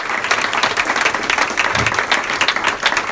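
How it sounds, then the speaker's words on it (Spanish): A church congregation gives a strong round of applause for their pastor, dense continuous clapping from many hands close by, steady and lively throughout without a break. "Un fuerte aplauso, mi hermano, para nuestro pastor"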